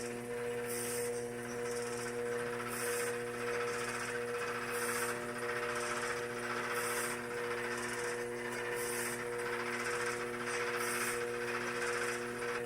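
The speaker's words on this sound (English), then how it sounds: "The wheel's going about medium speed." Electric potter's wheel spinning at medium speed while clay is leveled for a wide, shallow platter: a steady motor hum with constant hiss and soft rhythmic swishes repeating about every two seconds, with no talking.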